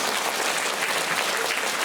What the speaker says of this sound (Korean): 우리 CNC 관계자들 분을 위해서 박수 한번 드릴까요?